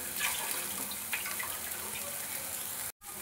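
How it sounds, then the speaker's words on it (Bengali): Water pouring into a pan of frying fish curry masala, a continuous gushing splash that runs steadily for a few seconds, then cuts off abruptly. "এবার এর মধ্যে জল দিয়ে দেব"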